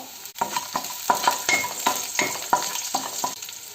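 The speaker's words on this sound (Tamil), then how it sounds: "கொஞ்சம் பச்சை மிளகாய் நம்ம இப்போ சேர்த்துப்போம்" Green chilies sizzle in hot oil for a quick mango pickle while a spoon stirs them, giving a continuous close frying hiss broken by repeated scraping clicks against the pan roughly every half second.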